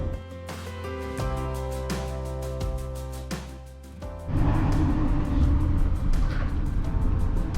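San Francisco city traffic on a foggy day rolls past with a steady, droning engine hum that swells louder and rougher about halfway through, with no voices.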